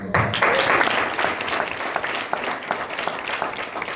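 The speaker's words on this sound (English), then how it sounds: "Give them a round of applause" Audience applause for the founders at a company event, a dense, steady burst of many hands clapping that stays loud throughout with a slight dip midway.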